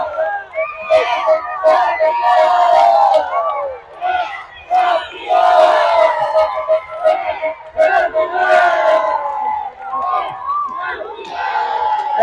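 Fluminense supporters in the stands at a youth under-10 final against Cruzeiro chant and sing loudly together in continuous, surging waves of massed voices with shouts.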